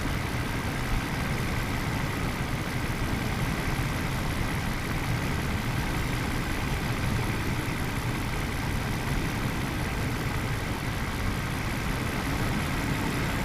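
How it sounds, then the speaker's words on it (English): A 1997 Mercedes S600 coupe engine idles steadily, a constant low hum with faint hiss, quiet and unchanging throughout with no voices. "the car is still running"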